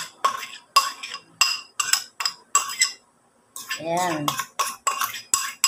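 Salad dressing with honey and salt being mixed in a bowl, a series of sharp metallic clinks and scrapes of utensils against the dish in irregular bursts, with a short spoken word in between.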